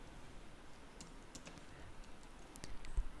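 Sparse, faint keyboard clicks from a computer keyboard used for Android app coding, a handful of light taps spread over steady background hiss, with no voices.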